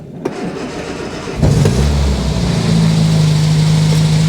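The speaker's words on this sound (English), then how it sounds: "let's get this thing started up. Okay, so choke out all the way to start off with." A Riley Kestrel 1300, with its choke pulled fully out, cranks briefly after a click and catches, then settles into a loud, close, steady idle with a faint rising hum.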